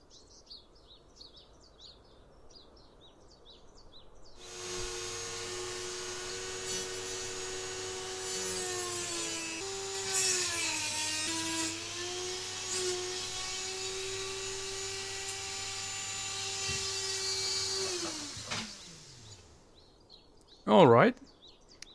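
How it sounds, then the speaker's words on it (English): A Dremel rotary tool spins up and cuts along the plastic casing seam of a 12 volt power adapter, a steady high whine with grinding rasp that dips under load, then winds down; a brief sharp noise follows. "Let's get the Dremel going and see if I can cut carefully along the seam."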